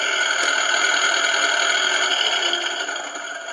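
A Double E RC Volvo L260H wheel loader model gives off a steady electronic engine idle sound, a constant buzzing hum that holds level and then fades slightly toward the end.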